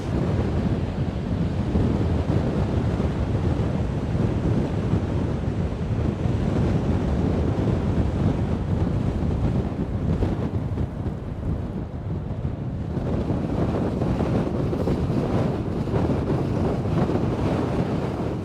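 Strong coastal wind at Sker Point near Porthcawl roars and buffets the microphone in a constant heavy rumble, with waves breaking underneath and brief lulls before the gusts build again.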